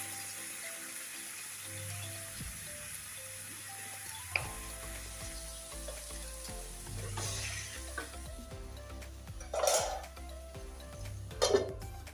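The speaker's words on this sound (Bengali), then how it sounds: "একটু লবণ আর হলুদ দিয়ে ভাজা" Mixed vegetables fry in a pan with salt and turmeric, a quiet continuous sizzle with occasional clatter and a couple of louder bumps near the end.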